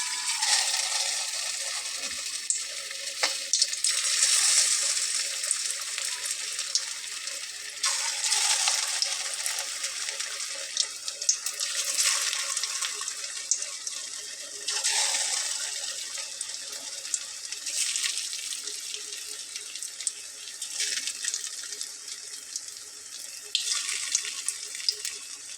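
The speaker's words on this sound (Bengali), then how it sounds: "এখন আস্তে আস্তে ভেজে নেব।" Snacks fry slowly in hot oil in a pan over a low flame, giving a steady, bright sizzling hiss that swells and eases in waves and is heard alone.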